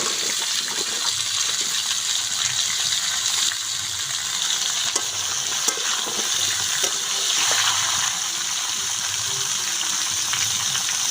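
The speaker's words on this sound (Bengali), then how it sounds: "সবজিগুলো আমি ঢেলে দেবো।" Vegetables hit a pan of hot oil with bay leaf, dried chilli and whole mustard seeds, giving a loud, continuous hiss and sizzle of frying with occasional spatters, heard close up without speech.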